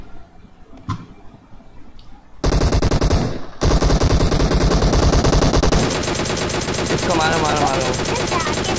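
Gunfire in a PUBG Mobile match: a few scattered shots, then sustained loud automatic bursts that keep going, overlapping and continuous. A voice talks underneath.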